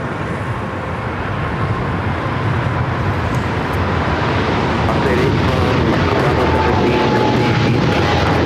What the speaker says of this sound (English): Airlines Flight 113 taking off to Manila